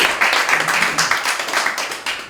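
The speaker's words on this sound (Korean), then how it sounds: "박수 한번 치셔야 됩니다." Audience clapping at an artist talk in Busan, a room of people applauding with brisk uneven claps at close to moderate distance, steady for a couple of seconds.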